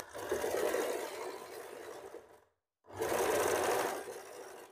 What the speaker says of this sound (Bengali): প্রথমে একটা সেলাই আমি এখানে করে নিলাম